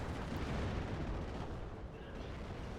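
Anti-tank gunfire in the WWII strategy game Steel Division 2, where a Panzer IV and armoured cars engage anti-tank guns: dense rumbling booms and blasts rolling continuously at a distance, low and heavy, with no voices.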